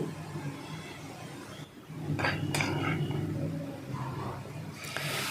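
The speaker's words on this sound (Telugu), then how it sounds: "ఇప్పుడు మన ముక్కలన్నీ కలిసేలాగా బాగా తిప్పుకోవాలి" Vegetable pieces stirred in a cooking pot for vegetable biryani, with scraping and clinking of a spoon against metal, a few sharp knocks, and a steady low background hum throughout.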